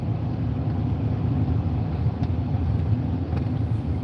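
Car driving on a snowy road during a snowstorm, a steady low engine and road rumble heard from inside the cabin, continuous and even with faint clicks and no talking.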